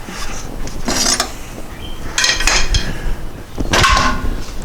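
Metal scraping, clanking and grinding from an original, rust-seized ball joint on a 1993 VW Cabriolet being worked back and forth, in three loud bursts of effort separated by quieter pauses.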